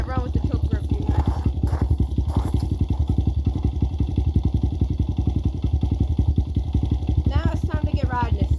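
A Honda CRF100 motorcycle idles after a cold start with the choke on, a loud, close, steady thumping single-cylinder putter throughout, while a person speaks over it.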